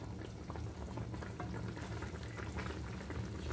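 Tilapia fish stew from lake-caught fish simmers in a pan, a steady bubbling and soft sizzle with continuous liquid popping, close and moderately quiet, with no talking.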